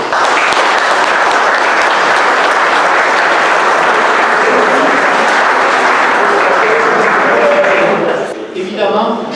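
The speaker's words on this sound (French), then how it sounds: "Vous pouvez vous applaudir." Loud, dense applause from an audience at a French awards ceremony, sustained as a continuous wash of clapping for most of its length before thinning out near the end, where a voice begins to speak.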